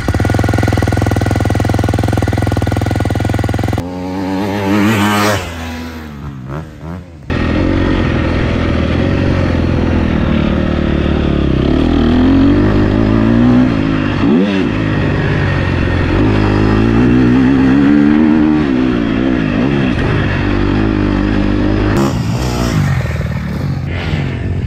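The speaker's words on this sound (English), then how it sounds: "we're gonna do a quick startup so you can hear how it sounds with that, especially with that Akrapovic exhaust" A 2023 GASGAS MC 250F Factory Edition dirt bike fitted with an Akrapovic exhaust starts up and idles loudly up close, with a few sharp revs and blips and a brief drop in level early on.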